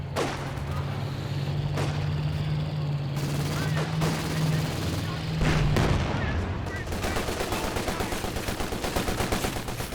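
A walking Stuka rocket barrage lands in Company of Heroes 2, a dense sustained rumble of explosions and rapid gunfire-like bursts with a crackling rhythmic tail, heard under faint game noise.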